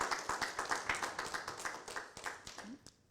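A church congregation claps in rhythmic unison, quick regular hand claps at moderate distance, fairly faint and fading toward the end.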